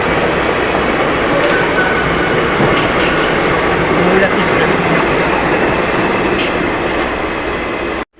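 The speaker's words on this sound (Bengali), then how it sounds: "সামনের থেকে একটা অনেক সুন্দর একটা আইসিএফ ট্রেন আসছে।" An ICF train rolls in on the line toward Howrah while a stopped train waits at a signal, a heavy, even rumble with rattling wheels sustained throughout before a sudden end.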